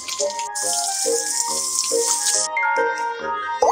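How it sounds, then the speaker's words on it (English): Cartoon tap water runs to rinse a scald wound, a steady bright hiss under light tonal music. The hiss stops partway through and the music carries on alone. "Rinse with clean water to cool the wound."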